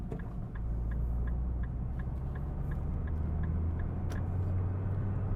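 Low, steady drivetrain rumble from a Nissan GT-R R35 cruising in fifth gear under 1500 RPM, a constant droning hum with faint ticking over it and no talking.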